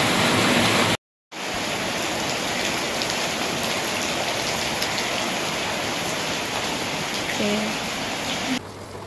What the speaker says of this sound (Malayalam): നല്ല മഴ പെയ്യുന്നുണ്ട് കേട്ടോ